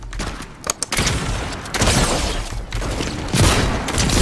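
Gunfire in the battle royale game Fortnite, with a few sharp shots followed by sustained bursts of firing mixed with game ambience, fairly loud throughout.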